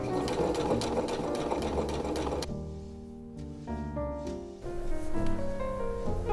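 A sewing machine stitches a lace bodysuit, its needle whirring in a fast steady run, then briefly slowing and pausing before revving up again, close and loud.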